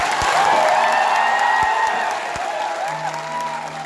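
An audience at a Sufi festival live performance in Jammu bursts into loud, sustained clapping with some cheering, the applause dense at first and tapering slightly, with faint tonal sounds underneath.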